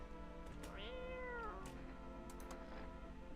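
A cat meows twice while being petted, a short call followed by a longer rising-and-falling one, faint and close, with no talk over it.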